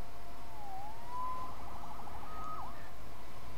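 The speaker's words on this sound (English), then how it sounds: "Saved by the siren." A police siren in the Spider-Man video game wails in rising and falling sweeps, fairly steady and moderately loud over a low rumbling background, with no talk.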